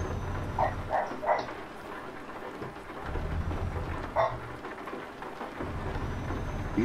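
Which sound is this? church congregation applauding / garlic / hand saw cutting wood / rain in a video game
rain in a video game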